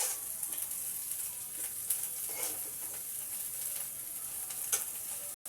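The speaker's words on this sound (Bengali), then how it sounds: "এরকম অল্প অল্প লাল লাল ভেজে নিতে হবে, অনেক টেস্টি হবে।" Cauliflower pieces frying in oil until lightly reddened, for a black pepper cauliflower dish: a close, steady, even sizzle with small crackles that runs without a break, and no one talking.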